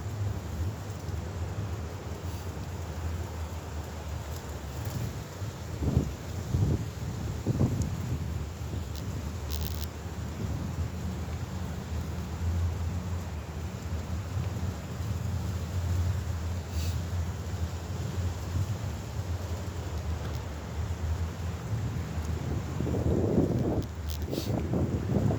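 Soft, steady outdoor wind hiss while out jogging in the morning, faint and continuous with occasional gusty low buffets against the microphone and a few light rustles.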